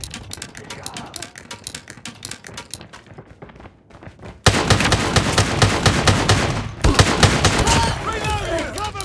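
Striker shotgun fire in the mobile shooter Call of Duty Mobile: sparse, quieter shots at first, then a loud, dense barrage of rapid blasts, with in-game voice callouts mixed in.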